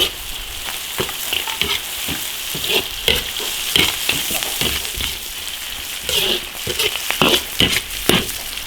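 Shrimp with ginger, scallion, onion, Sichuan peppercorns, chilies and spices being stir-fried in an iron wok, a loud continuous sizzle broken by repeated scraping and tossing clatters up close.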